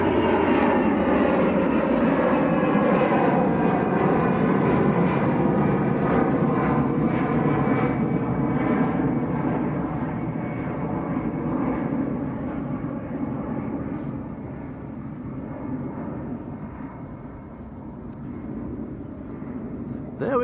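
An Airbus A320 at Manchester Airport, a powerful engine roar that starts loud and close, then slowly fades and dulls as it moves away, its whining tones shifting downward.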